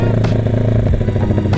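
A Honda Tiger motorcycle engine idles and revs close by with a rough, steady mechanical throb and some rattling clatter, running loud and continuous throughout.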